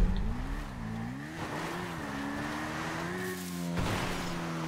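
A motorbike engine in GTA 5 Online, close and droning, its pitch rising and dipping with throttle changes and a brief jump in revs near the end, with no talking.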